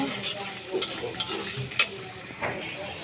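Spice paste for chicken curry sizzles in a hot pan, a steady frying hiss broken by scraping stirs and a few clinks of the spoon against the pan.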